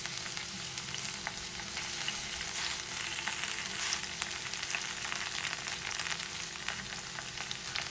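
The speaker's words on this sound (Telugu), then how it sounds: "ఆనియన్ ఇలా వేగనివ్వాలి ఇందులోనే మెంతి ఆకు వేయాలి" Onion and fenugreek leaves fry in a pan for a curry, giving a steady, fairly quiet sizzle with soft crackles and occasional stirring clicks throughout, with no talking.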